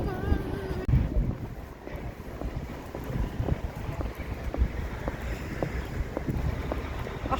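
Wind buffets a microphone outdoors on a boat tour, a steady rumbling roar with gusty bursts and water noise beneath, lasting throughout without clear speech.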